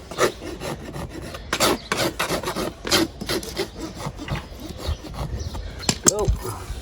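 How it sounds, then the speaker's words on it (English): A farrier's Pro Finish rasp filing a horse hoof, loud close rasping strokes repeated in a steady back-and-forth rhythm, each a harsh scraping rub. "we always use a pro finish rasp to finish"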